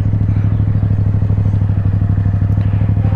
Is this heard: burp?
no